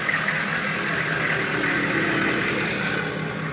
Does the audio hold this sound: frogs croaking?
no